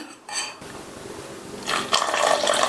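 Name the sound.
water being poured into batter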